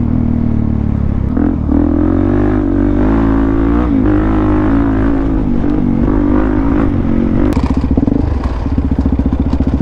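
A supermoto motorcycle engine drones loud and steady at close range as it is ridden, with a sharp burst and rising revs near the end, as if the rider is pulling the front wheel up.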